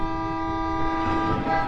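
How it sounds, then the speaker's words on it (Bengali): A car horn gives one steady, fairly loud toot lasting nearly two seconds, with no other sound around it. "এটা গাড়ির আওয়াজ ছিল না?"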